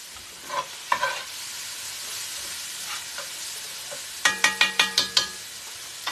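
Hamburger steak frying in a pan gives a soft continuous sizzle, broken by a few scrapes and then a quick run of sharp tapping clicks near the end.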